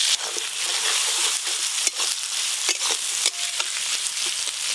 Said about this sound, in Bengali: পেঁয়াজগুলো লাল লাল করে বেরেস্তার মতো করে ভেজে নেব